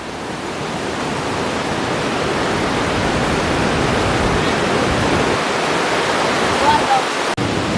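The Peričnik waterfall in Slovenia roars steadily and powerfully nearby, a constant broad rush of water with a faint voice surfacing near the end.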